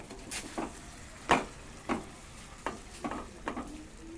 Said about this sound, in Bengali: একটু ভালো করে নাড়িয়ে নেব।